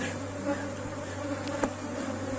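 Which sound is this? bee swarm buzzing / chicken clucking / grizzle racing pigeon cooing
bee swarm buzzing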